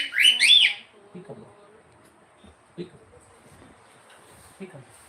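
Pet cockatiels give a burst of bright, close chirps and whistles at the start during an evening bonding session, then only scattered soft calls and small noises follow, with a person talking quietly.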